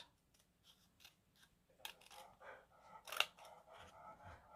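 Scissors cut paper in crafting, with a run of crisp close snips that speed up into longer slicing cuts and one sharp louder snip near the end, quiet and with no talking.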